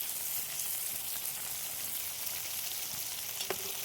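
Village-style chicken frying in hot oil with garlic paste, giving a dense, steady sizzle and crackle that fills the whole stretch, close and even, with a faint clink near the end and no talk.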